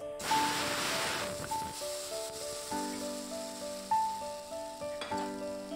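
Elephant apple (chalta) pieces poured into hot oil with panch phoron give a loud burst of sizzling, then a quieter steady fry beneath soft sustained music notes.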